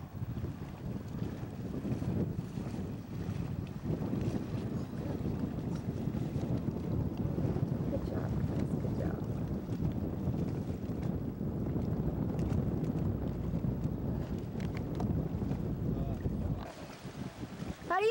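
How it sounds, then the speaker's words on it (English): A small boat driven by an 11 horsepower outboard motor runs steadily on open water, its low engine drone blended with heavy wind buffeting and water noise throughout, then dropping away near the end. "11 horsepower motor"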